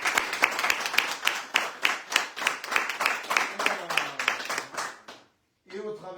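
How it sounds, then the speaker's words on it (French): A studio audience at a French radio show gives Gilbert a steady round of clapping, dense and rhythmic for about five seconds before cutting off, with a voice starting up just after. "Et au travers tous ces applaudissements"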